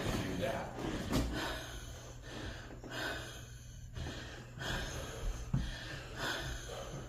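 Heavy, ragged breathing with repeated gasps and snorts after exertion during a tour of an old brothel in Deadwood, close and uneven in rhythm with background room noise.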